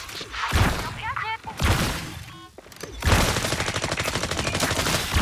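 Gunfire in FragPunk crackles in quick bursts, with one long rapid volley at the end, mixed with game voice lines and a player talking over it.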